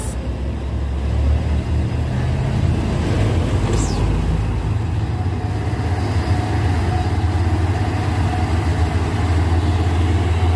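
Big trucks in a convoy idling, a loud continuous low-pitched diesel rumble that stays steady and close throughout, with faint traffic noise above.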